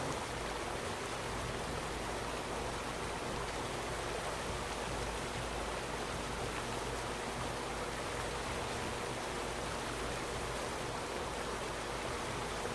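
Steady, unbroken rush of flowing water on the Roblox Royale High campus, a dense hiss that holds at an even level with no other sounds over it.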